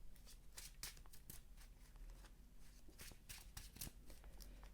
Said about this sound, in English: Let's shuffle this up properly.